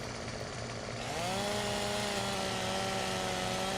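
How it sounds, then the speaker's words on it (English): A chainsaw in the video game Farming Simulator 17 revs up loudly and holds a steady, droning buzz while cutting, close and alone. "I may have to cut this one with a chainsaw."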